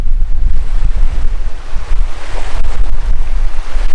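Waves and wind sweep over a sand dollar beach on a remote tropical island in New Caledonia, with loud, constant wind buffeting the microphone and surf washing in close by.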